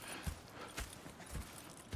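Horse hooves clip-clop in an uneven rhythm in the video game Red Dead Redemption 2, several distinct hoof strikes on a hard surface, fairly close, with faint background ambience and no talking.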